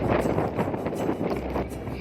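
Strong cold wind blowing steadily through a village with crops and woods, a continuous rushing roar buffeting the microphone with gusty swells, loud and close, with no voices.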